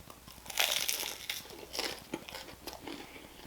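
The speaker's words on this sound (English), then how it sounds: "It's soft on the inside, but it's got that nice crunch on the outside. This is not sound enhanced, listen." Several crisp crunching bites into the crusty outer bread of a steak sandwich, soft inside, eaten close to the mic with chewing crackle between bites; no one talks.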